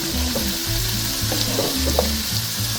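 Chicken fried rice sizzles steadily in a hot pan as soy sauce is stirred through over medium heat, a continuous close frying hiss with small crackles and stirring scrapes throughout.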